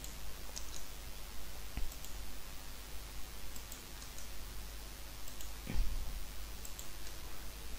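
A computer mouse clicks sporadically during drafting work in CAD software, with faint isolated ticks over quiet background hiss and no speech.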